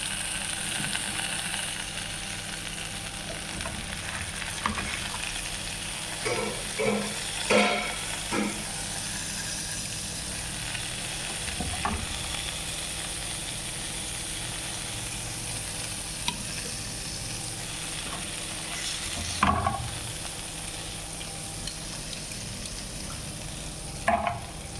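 Fish frying in a pan for an iftar meal, with a steady low sizzle across the whole stretch and a few louder clatters of stirring or turning, no voices.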